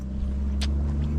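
A truck approaches along a very narrow rural road in Middlesex, Jamaica: a steady low engine rumble with a brief hissing burst midway, fairly loud and close.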